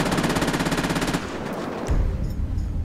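A tactical SMG in GTA 5 with a realistic gun sound mod: rapid bursts of automatic fire, loud and close, with a brief pause before a heavier burst of shots rattles on.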